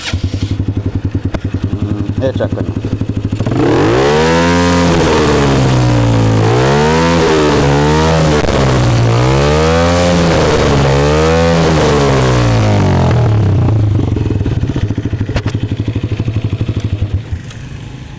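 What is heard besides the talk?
Honda CBF motorcycle engine started and revving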